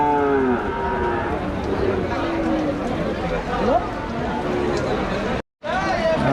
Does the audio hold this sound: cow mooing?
yes